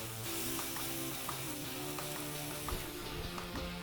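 Ribeye steak sizzles and fries steadily on a hot grill grate just after being flipped, a continuous crackling hiss with no talk.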